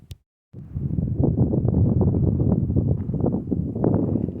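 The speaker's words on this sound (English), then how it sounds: "A little windy today" Steady wind buffets the microphone after a brief quiet start at Dorothy Lake on the Pacific Crest Trail, a continuous low rumbling roar with gusty swells, loud and close.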